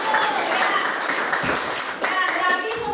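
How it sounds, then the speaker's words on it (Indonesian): Students in a classroom clap together for a presenting group, giving brisk, dense, close applause for a few seconds, with a voice faintly mixed in. "Tepuk tangan dulu untuk"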